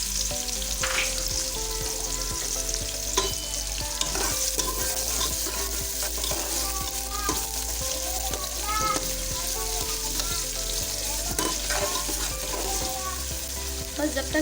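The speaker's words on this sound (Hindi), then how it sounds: "बस जब तक प्याज गोल्डन ब्राउन नहीं हो जाती तो हमने चलाना है।" Chopped onion fries in a few spoonfuls of oil in a pressure cooker for palak gosht, a constant close sizzle with scraping stirs and tapping, while background music plays underneath.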